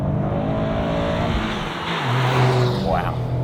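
A 2023 Toyota GR Corolla accelerates hard, its engine note climbing steadily under continuous cabin sound while a person speaks excitedly over it.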